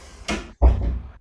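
A door is pushed shut indoors during a live online music session, giving a brief scrape followed by a dull, close thud.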